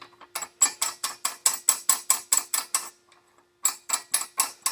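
A ratchet wrench loosens 14mm and 17mm nuts on the rear wheel of a Kawasaki Vulcan 900: rapid, close, crisp clicking strokes in regular bursts, with a brief pause before the ratcheting resumes.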